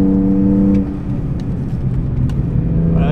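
A car on a track pivots under braking and then accelerates early, its engine a steady loud droning rumble that shifts pitch as the throttle opens, with no talking.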